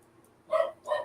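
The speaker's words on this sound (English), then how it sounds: "Do y'all hear the barking in the background?" A dog barks twice in the background, two short, distinct barks in quick succession, fairly faint and set against a quiet room.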